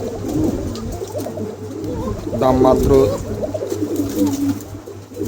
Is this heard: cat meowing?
no